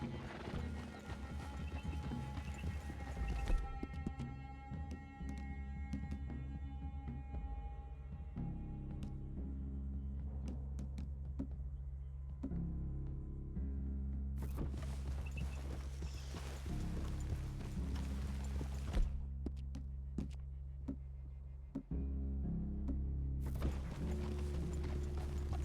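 Horses in Red Dead Redemption 2 clip-clop along at a walk with an occasional neigh, set against steady game ambience and faint musical tones, with no talking.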